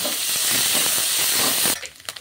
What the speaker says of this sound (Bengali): নারকেল কুচিগুলো আমি দিয়ে দিচ্ছি তেলের মধ্যে